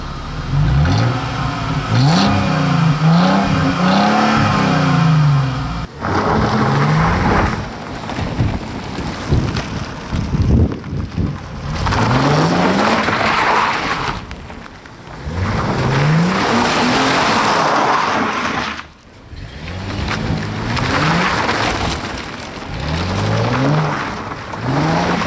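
A 2005 Chrysler Crossfire in summer mode with traction control off accelerates hard, its engine note climbing repeatedly through several gear changes, loud and close with no talking.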